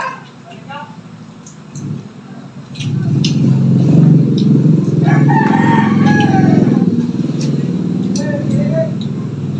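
A rooster crows in a rural Filipino home setting, with clucking and other fowl sounds mixed under a steady loud background hum and murmuring voices; people talk throughout.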